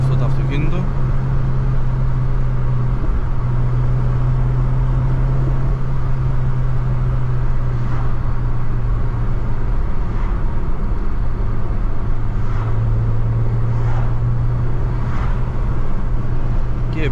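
A 1600cc, 160 PS Honda Civic on the move, a steady low engine drone with road and cabin noise throughout and a voice talking over it.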